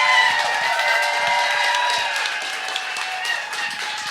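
Audience applause at a live storytelling event in Denver, a sustained wash of clapping from a crowd, with a few cheers mixed in.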